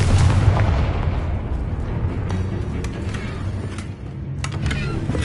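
Confringo spell explosions in the video game Hogwarts Legacy, a dense run of loud, booming blasts and bursts that roll into one another.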